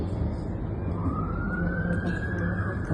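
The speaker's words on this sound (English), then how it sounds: "Sirens." A siren rises in pitch and holds steady, wailing over heavy low rumbling noise and a voice, moderately loud and fairly close.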